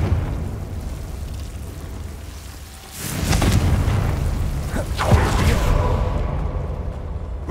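Blasting spell explosion in Hogwarts Legacy, a booming burst that swells midway and carries a second sharp crack, heavy and close over a rumbling game background.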